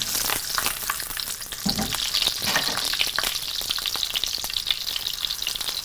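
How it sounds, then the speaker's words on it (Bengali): Fresh pointed gourd (potol) frying in a pan, a loud, continuous bright sizzle with occasional spatula scrapes and stirring clatter, no voices heard. "ফ্রেশ পটলটাকে আমরা ভেজে একটু ভেজে নেব"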